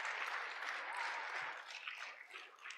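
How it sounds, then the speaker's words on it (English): An audience applauds at a Trail Life troop awards ceremony honoring a Presbyterian church, a steady wash of clapping hands from a crowd that holds level, then thins and tapers off toward the end. "let's go ahead and give a round of applause to New Hope Presbyterian Church"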